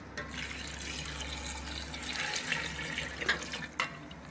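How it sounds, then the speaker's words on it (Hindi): Water running into a cooking pot for dhaba-style chana dal, a steady hissing pour that shifts in tone partway through, with a few small clinks near the end and no talk. "अब इसमें 1 लीटर पानी डाल लेंगे।"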